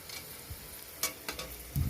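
Boiled chow mein goes into a hot pan with fried onions and egg, sizzling and frying steadily with a few sharp clinks and stirring knocks, close up and without talk.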